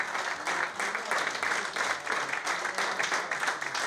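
Steady applause rises from a crowd honouring a Teteks football club legend at a generations reunion in Tetovo. Many hands clap at a brisk, even pace throughout, fairly distant and with no talking over it.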